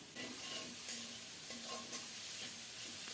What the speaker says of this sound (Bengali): সব মিলিয়ে ভালো করে নেড়ে চেড়ে কষিয়ে নেব